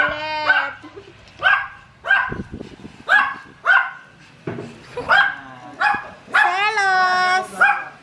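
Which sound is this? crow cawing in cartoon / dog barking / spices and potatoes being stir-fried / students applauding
dog barking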